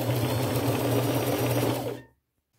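Ruffle strips are sewn together on a sewing machine, starting from the hemmed edge. It gives a loud, continuous motor hum and needle whir for about two seconds, then stops abruptly into silence.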